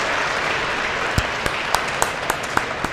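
Crowd applause at a sumo match, a steady wash of many hands clapping with several sharp, louder individual claps standing out, without any talking.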